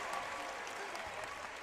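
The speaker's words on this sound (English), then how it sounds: "The crowd is loving it." A crowd at a club championship match applauds, the clapping faint and distant as a dense, even patter with no voices standing out.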